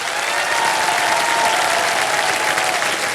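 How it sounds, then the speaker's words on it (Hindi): A game show studio audience claps loudly and continuously, a dense, even roar of applause with no talking over it. "तालियां बजती रहे मीनल के लिए"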